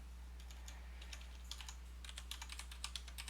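Fingers type on a computer keyboard in quick, irregular bursts of light clicks over a steady low electrical hum, growing busier toward the end.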